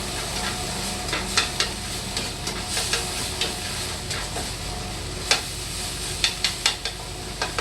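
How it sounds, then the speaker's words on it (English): Garlic frying in a pan for salmon crab cakes, a steady close sizzle broken by sharp stirring scrapes and clicks at irregular intervals, with no voices. "we got the garlic cooked down"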